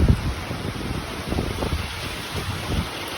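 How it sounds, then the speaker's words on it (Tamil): Heavy summer rain pours down with gusting wind in a steady, dense rush of drops, close and continuous. "இப்போ பாருங்க, நல்லா தெரியுது மழை துளிகள் ஏறுது."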